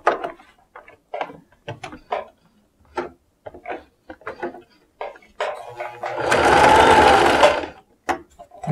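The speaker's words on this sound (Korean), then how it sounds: "대박음질로 한번 박아주고 천천히" A sewing machine backstitches over a webbing strap on a shoulder bag, with a few separate clicks and short stitch bursts, then one steady, close run of stitching lasting over a second.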